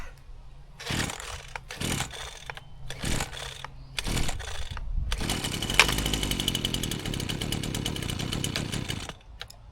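Four short pull-cord tugs sputter, then a Husqvarna 122RJ gas brush cutter engine catches and runs roughly at high revs for several seconds before cutting off.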